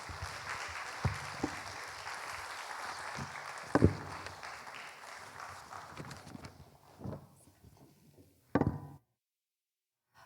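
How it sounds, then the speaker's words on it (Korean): A church congregation gives a steady round of welcoming applause that swells, holds for several seconds and thins out with a few scattered late claps before cutting to silence. "우리 백은실 사모님 나오실 때 우리 환영의 박수 하도록 하겠습니다"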